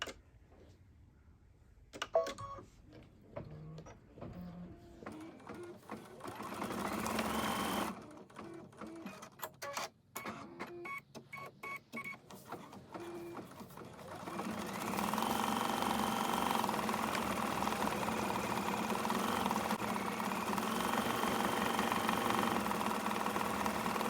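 A sewing machine stitches eyes in purple thread, running in short bursts with pauses at first, then settling into a steady, loud continuous whir for the last ten seconds, close up with no talking.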